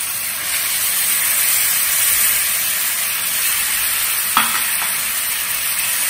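Finely chopped tomatoes sizzling in a pan for a Bengali tomato chutney while being stirred, a steady close frying hiss with a single brief clink of the utensil partway through.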